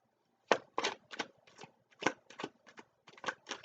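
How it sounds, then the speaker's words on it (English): Tarot cards are shuffled by hand, a run of about a dozen crisp riffling bursts in quick irregular succession, close and clear with quiet gaps between them. "I think that should be shuffled enough."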